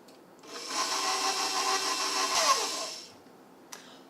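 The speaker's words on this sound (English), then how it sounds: "now we're going to go ahead and turn on our mixer so we can get our butter softened just a little bit" An electric mixer whirs in a mixing bowl, softening room-temperature butter for root beer float cookie dough; a single steady run of about two and a half seconds, close and moderately loud, then stops.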